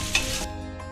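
Spinach muthiya pieces drop into hot tempering and sizzle loudly while being gently stirred, a brief burst of frying that quickly settles to a softer crackle.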